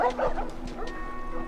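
A dog in The Last of Us video game gives a few quick, fairly faint barks and yips in a quiet in-game space.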